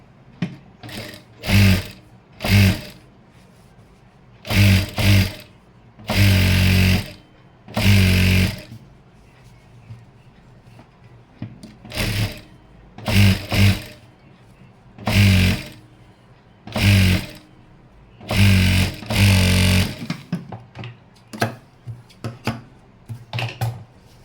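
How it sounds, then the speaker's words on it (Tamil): An electric sewing machine stitches along the edge of a chudithar pant in a series of short, loud, close bursts separated by brief pauses as the fabric is guided and repositioned. "இப்போது இந்த ஓரத்தில் தையல் ஒன்று போட்டுக்கிறேன்"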